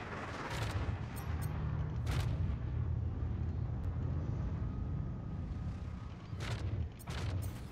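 Sustained, dense gunfire from the Star Citizen video game fills the whole stretch, loud and continuous, with sharper cracking bursts cutting through at intervals.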